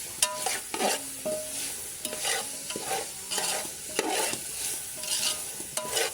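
Chicken curry masala frying in a pan is stirred steadily, with repeated scraping strokes over a continuous sizzle. The strokes land in a regular rhythm and are heard up close with no voices.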